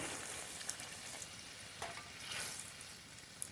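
Faint, soft hiss and sizzle of bottle gourd curry frying in a pan as a little water goes in, steady low bubbling with a slight swell of steam near the end, quiet and without talking.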